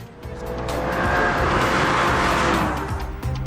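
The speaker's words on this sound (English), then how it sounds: "After starting the engine, you notice this is not a normal engine." A BMW M3 engine starts and runs close by, its sound swelling to a full, strong roar over a few seconds before easing back, with no voices present.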